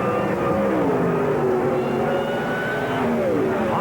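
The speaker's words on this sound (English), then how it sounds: "Just listen to the whine of Freddie Hahn's supercharged engine." A supercharged Pro Modified drag racing engine at a 1991 IHRA drag race in Leicester, New York, gives a loud, continuous roar with a rising and falling supercharger whine, steady for a few seconds with no talk.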